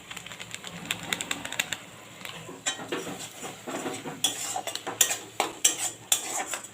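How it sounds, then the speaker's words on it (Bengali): Ground coriander and cumin paste with Kashmiri chili is stirred and sautéed in a pan for a Bengali papaya curry. A spatula scrapes and clinks against the metal in quick, uneven strokes over a low sizzle, close, with no voices. "এবার মশলাটা আমি ভালো করে কষিয়ে নেব।"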